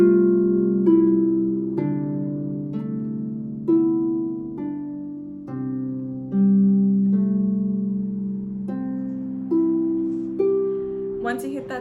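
Harp playing, plucked notes with ringing bass tones, starting loud and easing to a softer volume across the phrase, steady unhurried rhythm, played solo.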